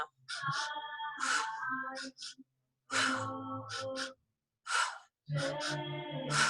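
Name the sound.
breathwork breathing, inhaling and exhaling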